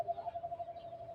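An alimokon dove gives a faint, low, pulsing coo in a steady run of beats, heard alone against quiet surroundings.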